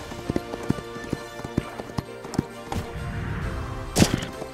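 Horse hooves on a cross country eventing course thud in a steady galloping rhythm of evenly spaced beats, fairly close, followed by a louder impact near the end, with no talking over them.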